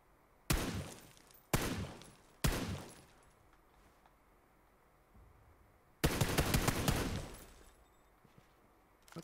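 Video game gunfire in a shooter match: three sharp separate shots in quick succession, a few seconds of quiet, then a dense, loud burst of rapid automatic fire.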